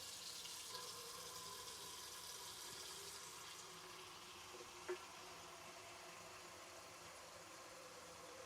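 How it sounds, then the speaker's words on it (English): Tap running steadily into a large pot as it fills with water, a faint, continuous hiss and splash with a small clunk midway and no talk. "let's get this full of salted boiling water"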